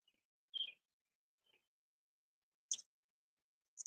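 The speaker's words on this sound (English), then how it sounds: "Loud ass birds. Yeah, those robins are serious." A few brief, high-pitched robin chirps, spaced apart against near silence.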